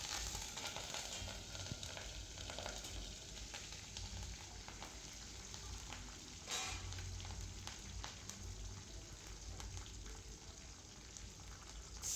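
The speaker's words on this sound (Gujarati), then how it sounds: "બીજી બાજુ મેં વઘાર માટે ઓઇલ મૂકી દીધું છે તેમાં રાઈ" Steady crackling sizzle of mustard seeds popping in hot tempering oil, continuous and close, with occasional sharper pops and no voices.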